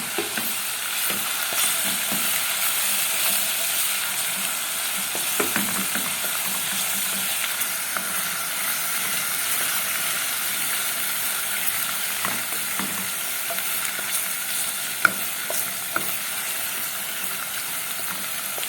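Garlic sizzles steadily in a hot pan while being stirred for Egyptian koshari sauce, with a continuous frying hiss broken by occasional scrapes and clicks of the spoon.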